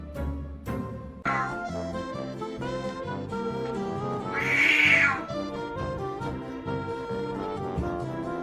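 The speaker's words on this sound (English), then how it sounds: "has a unique meow." Pet cat meowing amid busy, loud background music, a distinct drawn-out meow rising briefly above the mix in the middle.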